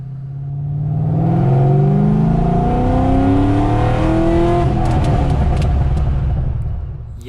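Salvage C6 Corvette V8 revving hard in a driveway, rising and falling engine tones sweeping up through several pulls over about seven seconds, loud and close, with no talking.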